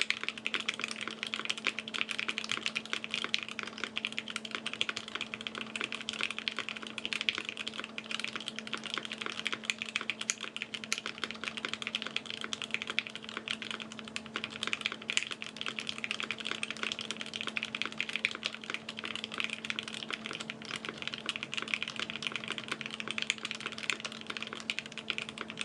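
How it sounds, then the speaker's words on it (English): Continuous rapid typing on an unplugged Fuji 65 mechanical keyboard, with dense, even key clacks close up, sustained without a break for the whole stretch. "I'm not gonna do it plugged in. I'm just gonna type."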